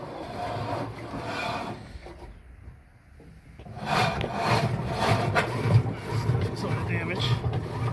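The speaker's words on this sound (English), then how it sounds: "got a GE washer making a loud scraping noise, which is common." GE washer with a loud scraping fault, a rough grinding rub close by in uneven waves, fading briefly then returning stronger, with someone talking over it.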